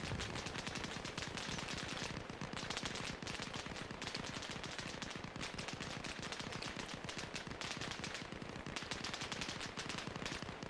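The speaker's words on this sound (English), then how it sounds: "I don't know what they're shooting at." Gunfire in the video game Arma Reforger: continuous loud automatic bursts and rapid shots packed densely throughout, with no pause and no talk over them.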